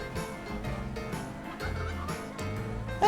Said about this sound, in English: Hey, and the turkeys, they are becoming the signature of my Transport Fever series.